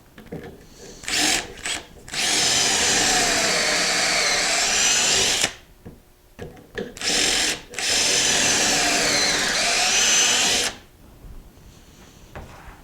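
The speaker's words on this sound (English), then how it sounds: "I'm going to drill 2 holes." A power drill whirs in two long, steady bursts drilling pocket holes with a Kreg K4 jig, each preceded by short stop-start revs and handling noises.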